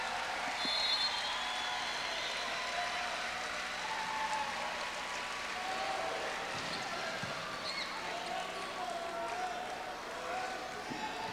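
Men's volleyball crowd on its feet in an indoor gym, applauding and cheering at game point, a fairly faint, distant, continuous wash of clapping and crowd noise.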